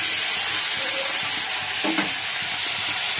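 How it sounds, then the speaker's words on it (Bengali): Catla fish frying in a pan makes a continuous loud sizzle, with one brief stirring scrape near the middle, then a sudden cutoff. "আর এদিকে মাছটা ভেজে নিচ্ছি"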